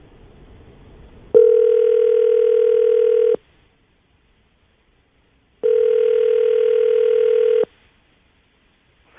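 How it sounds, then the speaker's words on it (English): Two long, steady telephone tones sound clearly over a quiet line, each lasting about two seconds with a pause between them, as a call is placed to a morning radio show. "I'm going to call her right now"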